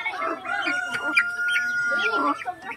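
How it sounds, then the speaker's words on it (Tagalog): Black Australorp and Golden Buff chickens cluck steadily at close range while a rooster crows through the flock, a busy, continuous barnyard chorus with no talk. "Ito yung mga manok."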